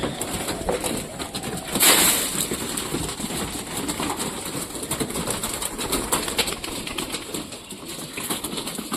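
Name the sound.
pigeons cooing and moving in a loft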